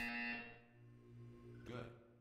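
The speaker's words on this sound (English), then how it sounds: "You will hear a buzzer." In the video game Portal 2, a harsh electronic buzzer sounds loudly at the start, cuts off, then a short second burst follows, faint and alone with no talking.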